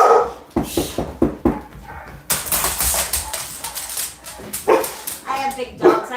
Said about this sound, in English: I have big dogs.